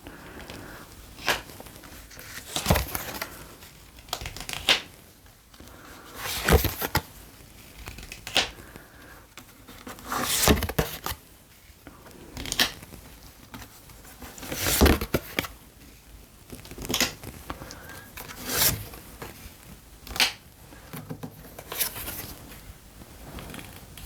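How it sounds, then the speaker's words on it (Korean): Seven tarot cards drawn and laid out one after another, crisp irregular card flicks, slaps and shuffling rustles spread across the stretch, close and fairly quiet with no talk. "7장의 카드 뽑겠습니다."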